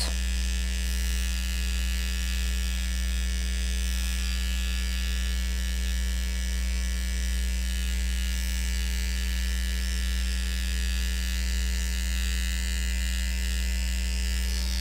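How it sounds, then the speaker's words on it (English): A Réjuvapen microneedling pen runs with a steady, close electric buzz and hum as it is stroked down taut facial skin, continuous and unbroken with no talking. "you take the pen and you will stroke down all the time, keeping that skin taut."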